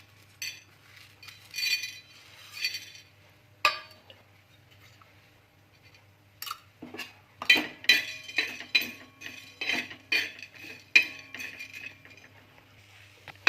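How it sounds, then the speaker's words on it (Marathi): Whole spices being dry-roasted in a pan, with intermittent dry rattling and clinking as they are stirred and tossed, heard in short bursts separated by quiet pauses. "आता सर्वप्रथम आपण हे खडे मसाले भाजून घेणार आहोत"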